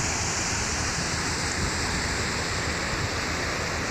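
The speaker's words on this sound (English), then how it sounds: "I've only managed to open one of the paddles and the lock isn't even half full yet, but it's still quite a torrent" Canal lock water gushes in through a single opened paddle as a dense, unbroken roar of rushing torrent, loud and close, with no pauses or voices over it.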